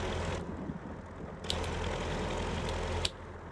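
A modelled MTZ tractor engine in Farming Simulator 22 drones low and steady, fairly quiet, with a couple of sharp mechanical clicks and no one speaking.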